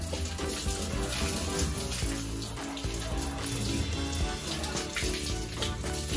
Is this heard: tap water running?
yes